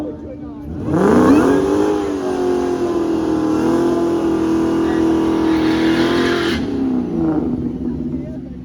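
A drag racing car bogs as it launches off the line, its engine note sagging and straining in a loud, sustained mid-pitched drone that holds for several seconds before cutting off abruptly.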